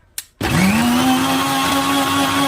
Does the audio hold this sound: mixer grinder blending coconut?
yes